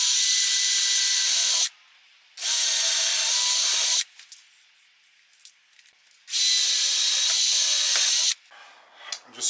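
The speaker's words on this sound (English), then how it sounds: "I'm just drilling pilot holes with a 5mm drill bit." A 5mm drill bit bores pilot holes in a Fiat Ducato camper conversion, heard as three long, loud bursts of drilling, each a few seconds, with quiet pauses and small clicks between them.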